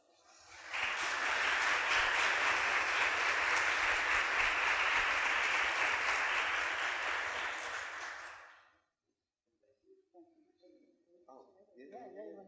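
An audience applauds to welcome literacy advocate Malcom Mitchell onto the stage at a governor's summit, a loud, dense, steady wash of clapping that fades out after about eight seconds, followed by a few faint voices and stirrings.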